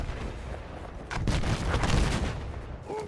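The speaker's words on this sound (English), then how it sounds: "Seeing through the explosions is half the battle." Dense explosions and gunfire rumble in the video game Battlefield 6, with a sustained low roar and several sharp blasts piling up close and loud.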